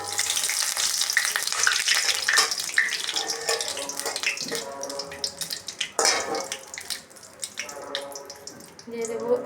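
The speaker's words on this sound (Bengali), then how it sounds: "এখন আমি কড়াইতে দিয়েছি সরষের তেল। দিয়ে দিব একটা শুকনো লঙ্কা আর দুটো তেজপাতা।" Dry red chili and bay leaves frying in hot mustard oil in a wok, a busy crackling sizzle with sputtering bursts and occasional louder pops, close and steady throughout.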